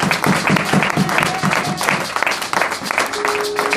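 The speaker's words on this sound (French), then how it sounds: "je veux qu'on acclame Dieu pour eux" A church congregation applauds its young musicians, a dense, steady wash of clapping hands with some voices mixed in, filling the room at a constant loudness throughout.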